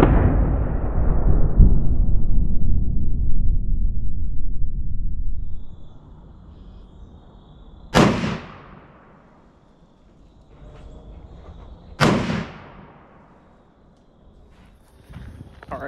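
Three muzzleloader rifle shots fired at maximum range on a shooting range: each is a sharp, loud boom with a long, rolling echo, and they come several seconds apart, with quiet in between.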